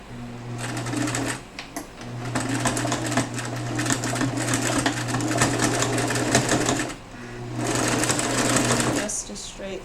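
A sewing machine runs a straight 5/8 inch seam through denim for an upcycled purse, a loud close whirring hum in three long bursts with short pauses, a voice talking over it.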